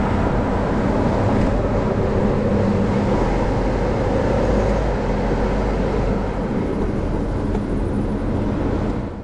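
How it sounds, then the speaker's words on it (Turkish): Inside a BMW 123d E88 convertible with an automatic gearbox on the move, a low, even road and engine rumble fills the quiet cabin without a break. "Sizin de duyabileceğiniz gibi aracı oldukça sessiz."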